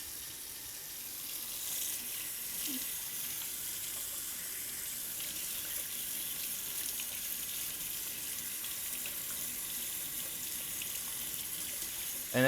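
Steady running water from a tap flows over cleaned largemouth bass fillets in a sink, a continuous close hiss with no talking.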